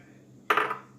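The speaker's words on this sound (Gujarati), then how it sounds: "હવે આપણે એક આ મિક્સર જાર લઈ ને ટુકડા એમાં એડ કરી દઈશું" Raw mango pieces tumbling into a mixer jar give one short, bright clatter of chunks striking the container, close and alone against a quiet background.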